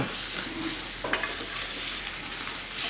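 Food sears in a hot pan for sinigang, giving a steady, close sizzle with light stirring and a brief sharper scrape near the middle, no talk over it.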